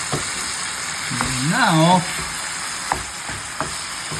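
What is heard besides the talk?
stirring beef pares with pepper in a pan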